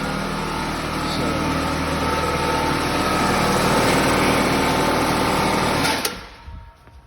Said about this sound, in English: Air compressor just kicked on.